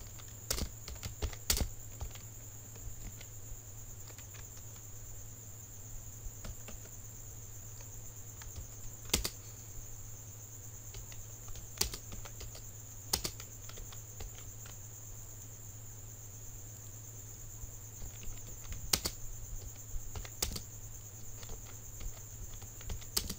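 Faint, sparse taps on a computer keyboard sound over a steady electrical hum and a high whine, with isolated clicks spread across the stretch.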